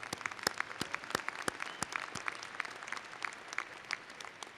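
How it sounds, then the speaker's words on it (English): A commencement audience applauds its faculty, a dense, steady wash of many hands clapping at a distance, with sharper individual claps popping through for several seconds. "applaud now for our faculty at NJIT"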